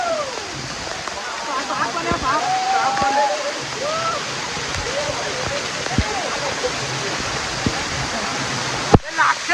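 The Chingra Pagar waterfall pours in the monsoon season as a constant broad roar of falling water, with people's voices and shouts mixed in and a sharp knock near the end.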